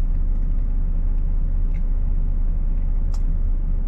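A Volvo car on the road, a steady loud low rumble of engine and road noise from inside the cabin, with a couple of faint brief squeaks over the drone.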